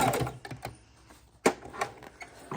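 Fabric and paper scraps are run through a sewing machine, giving a few quick mechanical stitching clatters and clicks in short irregular bursts, close and fairly quiet.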